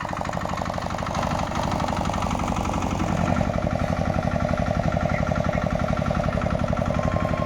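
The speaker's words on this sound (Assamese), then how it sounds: "ট্ৰেক্টৰ আৰু পাৱাৰ টিলাৰৰ কৰ্কশ শব্দই যেন ম্লান কৰি পেলাইছে চহা জীৱনৰ পুৰণি সৌন্দৰ্য" Tractor and power tiller engines working a village field, a close, loud, rapid mechanical chugging that repeats steadily and evenly throughout, with no talk.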